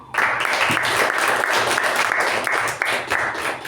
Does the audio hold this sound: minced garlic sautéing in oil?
no